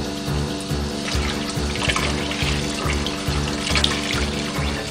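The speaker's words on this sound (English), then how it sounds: "So here I'm just rinsing it in cold water and just getting all of the soap out of that wig" Cold tap water runs steadily into a sink, a close, continuous splashing stream with small shifts as a synthetic wig is moved under the flow to rinse out soap.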